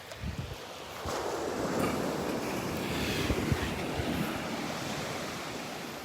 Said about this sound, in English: We have had some pretty big waves.